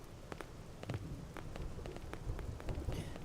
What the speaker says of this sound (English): Because I kind of don't want it to be raining during all this.